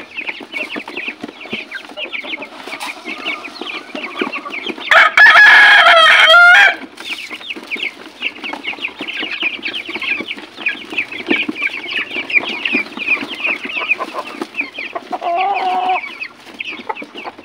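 A backyard flock of 23 broiler chickens clucks steadily throughout, with a brief loud rooster crow in the middle, close and continuous with no talking.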